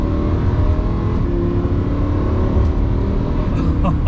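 Lamborghini sports car engine while being driven at normal speed, a steady low rumble heard from inside the car with road noise throughout.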